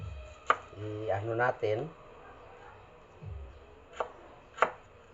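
A knife chops onion on a board in a few sharp, isolated knocks spread through the clip, with someone speaking briefly in between.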